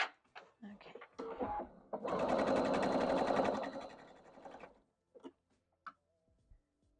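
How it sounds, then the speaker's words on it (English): A sewing machine stitches quilt pieces together for a basket-pattern wall hanging, a close, rapid mechanical whir lasting a few seconds, framed by scattered handling clicks and quiet moments before and after. "And now I'm going to sew him on, and again, making sure the top lines up."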